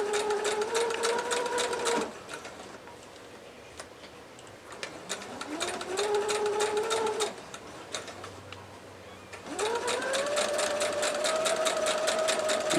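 A sewing machine stitches quilt pieces in three loud, steady bursts of rapid mechanical whirring, with quiet pauses between the runs as the fabric is repositioned.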